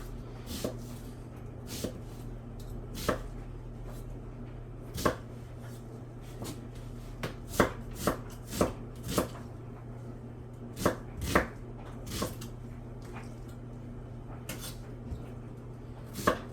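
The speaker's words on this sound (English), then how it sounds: "So we're gonna go ahead and cut up our onion." An onion being cut with a knife on a cutting board for chili, irregular crisp thuds spaced a second or so apart, quicker in the middle, over a steady low background hum.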